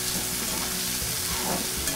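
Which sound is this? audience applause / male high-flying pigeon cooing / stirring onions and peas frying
stirring onions and peas frying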